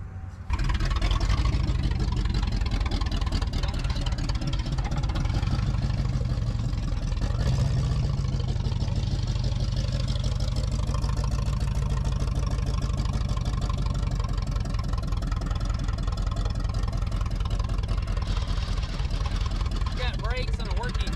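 The engine of a 1978 Oldsmobile 98 runs steadily at idle for about twenty seconds, a close, even rumble that never drops out.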